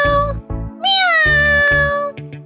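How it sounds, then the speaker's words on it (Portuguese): A kitten meows in a cartoon bedtime story, giving a few short, close, clear meows, one with a rising and falling pitch, followed by softer chirps. "Aqui, gatinho! Aqui, aqui! Miau!"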